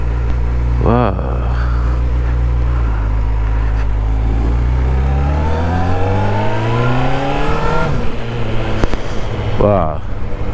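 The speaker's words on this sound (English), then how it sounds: "It's a race by the way the engine sounds and it goes." A 2021 Honda CBR650R engine revs hard and accelerates up through the gears, its loud rising howl broken by quick gear changes, steady and close throughout.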